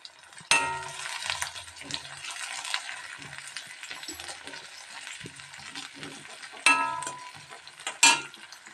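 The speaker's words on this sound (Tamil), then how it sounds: "நமக்கு வந்து நல்லா ஃப்ரை பண்ணிக்கலாம்" Garlic, ginger, two green chillies and three dried red chillies frying for a mixed chutney, with a soft steady sizzle, stirring scrapes and a few sharp clinks of a utensil against the pan, close and fairly quiet.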